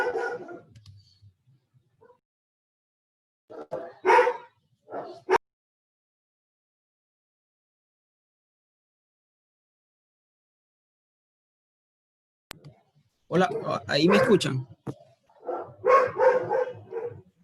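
A small dog barks in short sharp bursts in the background of an online class call, with a few yips coming and going between long quiet gaps while a person speaks over the line.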